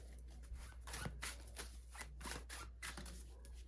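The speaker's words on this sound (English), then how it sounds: "let's go ahead and pull some tarot cards for you" Tarot cards being shuffled by hand, soft rapid riffling and slapping strokes in a quiet room, close and faint, alone.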